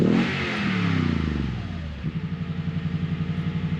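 Toyota Tundra TRD pickup with an aftermarket TRD exhaust, revved hard at the start, then dropping to a deep, pulsing idle burble, close and loud with no talking.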